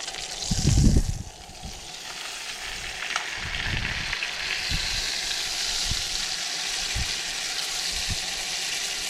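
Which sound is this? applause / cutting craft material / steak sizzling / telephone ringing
steak sizzling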